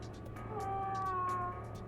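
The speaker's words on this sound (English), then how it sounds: "The way it closes just sounds like a sad cat." A creaking object in the Virtue's Last Reward video game closes with a drawn-out, mewling whine like a sad cat, a single wavering tone lasting about a second over a steady low hum.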